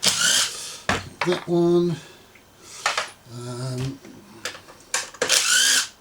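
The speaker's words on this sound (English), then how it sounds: "there's 2 nuts here down the bottom we want to undo as well" A tool clinks and scrapes against metal while 8mm nuts and small washers are undone on the recoil starter of an EX350 engine. The taps are brief, close and intermittent, with someone talking over and between them.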